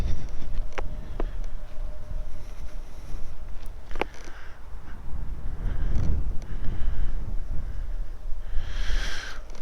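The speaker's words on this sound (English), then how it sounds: "a bit bleak and windy." Steady wind rushing and buffeting outdoors, with low rumbling gusts and a few faint clicks and knocks throughout.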